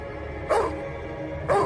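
Two loud, close dog barks come about a second apart over a steady low background hum, with no talking.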